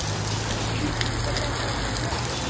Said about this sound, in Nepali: यहाँ त्यो डेन्जर पानी परिरहेको छ